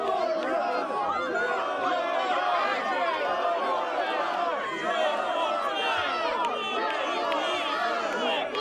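Dense crowd noise at a monster truck event, steady roaring and chattering throughout with no break, a busy mass of voices filling the whole stretch.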